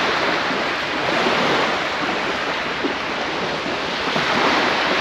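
Waves break continuously on a Normandy beach, a steady loud wash of surf with wind rumbling across the microphone and no voices.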